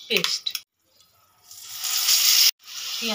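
Onion paste drops into hot oil with spices, setting off a loud, harsh sizzle that swells and holds for about a second before cutting off, with brief talking just before and after.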